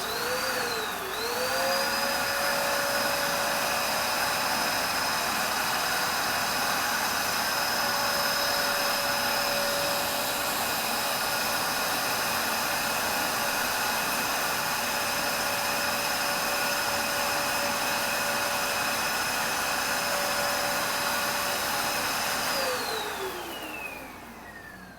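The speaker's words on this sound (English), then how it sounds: "let's see what the flour does when it is vacuumed to the mask" A vacuum cleaner sucks flour through a homemade mask, spinning up with a rising whine, holding a steady loud drone for about twenty seconds, then winding down at the end, with no talking.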